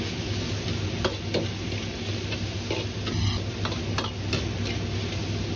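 King oyster mushrooms and pork strips tossed in a hot wok with black pepper, giving a steady close sizzle with scraping and clinking of a spatula at irregular intervals.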